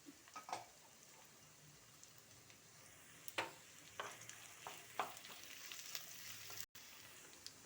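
Onions frying in a pan as sliced green chillies and curry leaves go in, a faint steady sizzle punctuated by scattered soft stirring clicks and taps, with no talking.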